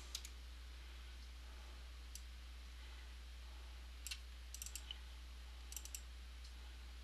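A computer mouse gives a handful of faint, crisp clicks, some single and some in quick pairs, scattered over a low steady hum in a quiet room.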